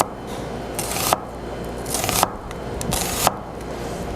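A knife slices a red onion thinly on a cutting board, giving three soft, quick bursts of crisp cutting strokes over a quiet room background.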